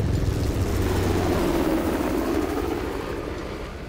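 Helicopter flying overhead in the video game Uncharted: The Lost Legacy, a steady loud rotor drone with low thumping that holds throughout and fades slightly toward the end, with no talk.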